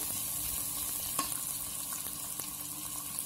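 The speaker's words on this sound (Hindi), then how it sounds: "अब इसमें ये हम प्याज, हरी मिर्च और ये अदरक, ये डालेंगे और इनको अच्छे से फ्राई करेंगे" Onion, green chili and ginger frying in hot oil, a steady dense sizzle that stays loud throughout, with a few faint stirring clicks in the pan.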